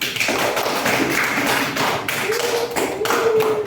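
A classroom of students claps for the purple group, giving a loud, dense run of clapping that holds steady for several seconds.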